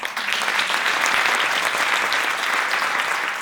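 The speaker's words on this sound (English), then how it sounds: "So I want to give them a round of applause." Loud, dense audience applause at a speaking event, a continuous wash of many hands clapping at steady volume throughout.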